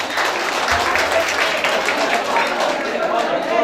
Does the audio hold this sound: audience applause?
yes